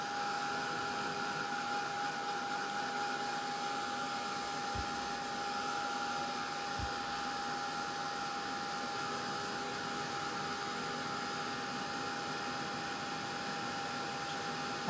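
A dryer blows a steady, even whirring hiss while drying a painted craft piece, a constant close drone with a faint tonal whine and two brief low knocks partway through.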